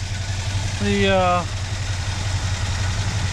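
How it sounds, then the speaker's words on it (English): A 1960s car engine idles roughly with a low, uneven, pulsing rumble throughout, while a short voice briefly breaks in over the top. "Got a little bit of a rough idle."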